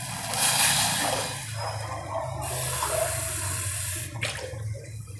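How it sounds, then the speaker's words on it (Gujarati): Water pours steadily into a cooking pot for Gujarati bajra (millet) bhadku, making a continuous splashing gush that eases toward the end, with no voices. "હવે એમાં આપણે ત્રણ ગ્લાસ પાણી નાખીશું"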